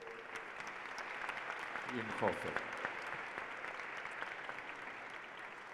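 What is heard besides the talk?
audience applause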